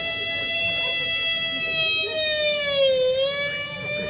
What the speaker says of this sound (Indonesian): itu ambulan dong